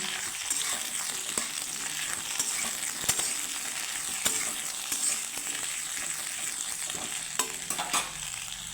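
Okra lightly frying in a pan gives a steady close sizzle, broken by scattered scrapes and sharp clicks from stirring.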